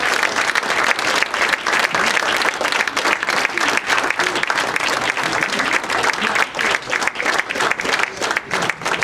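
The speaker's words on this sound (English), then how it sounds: "But please clap for this great athlete." Loud, sustained applause fills a college hall of fame ceremony, a crowd clapping densely and continuously for about nine seconds with no break.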